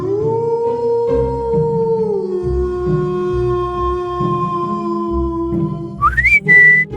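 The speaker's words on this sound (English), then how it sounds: "It's a werewolf." Werewolf howl sound effect for a Halloween sound-guessing game for kids, a long sustained, slowly falling howl with a bright whistling tone over a low rhythmic backing, ending with a short rising wail.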